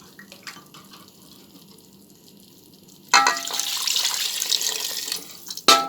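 After a quiet stretch, water suddenly pours from a tap into a pressure cooker pot with a steady splashing rush, then a brief stop and restart.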